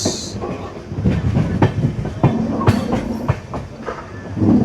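The Sapthagiri Express rolls along the rails near Renigunta Junction with a steady rumble and repeated clickety-clack of wheels over track joints, heard from inside the carriage.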